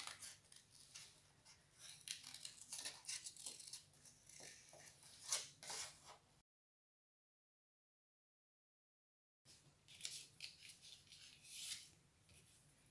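Scissors snip out a paper shape for a craft, making close, quiet crisp cuts and rustles. The snipping stops for a few seconds of silence, then resumes.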